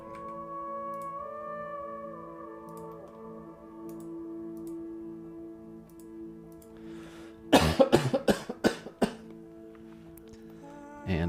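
A burst of several close, sharp coughs comes in quick succession over a steady humming tonal background during a house-plan drafting session, then fades back to the hum.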